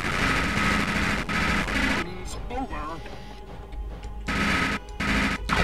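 Rapid bursts of gunfire in the Robocop video game rattle loudly in dense stretches, break off briefly for quieter clatter and a voice, then resume in heavy, continuous volleys.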